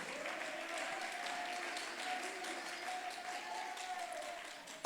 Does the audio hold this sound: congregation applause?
yes